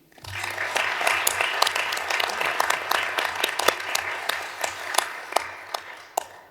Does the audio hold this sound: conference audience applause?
yes